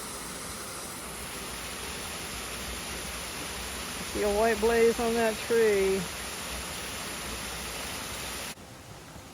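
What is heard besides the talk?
waterfall beside the Appalachian Trail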